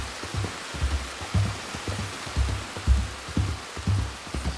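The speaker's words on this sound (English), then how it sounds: "Seems we've had a lot of rain over the past couple of sessions." Steady rain pours down in the open world of Red Dead Redemption 2, a dense, even hiss with soft low thuds and patters scattered through it, with no voices.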